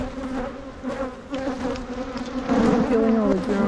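Honeybees buzz steadily around a hive frame during drone larvae removal, a close, continuous droning hum with overlapping wingbeat tones that swells louder toward the end.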